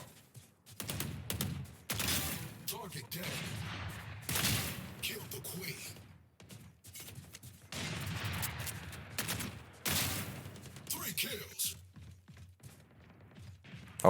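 Gunfire in the tactical shooter Valorant, several short bursts and single shots spaced across the stretch, with footsteps and quieter gaps between them.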